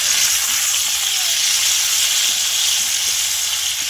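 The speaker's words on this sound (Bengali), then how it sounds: "তো কড়াতে তেল দিয়ে দিলাম, তো ক্যাপসিকামগুলো ভেজে নেবো।" Onions, capsicum and tomatoes fry in oil in a wok, a loud, close and continuous sizzle with faint stirring clicks underneath.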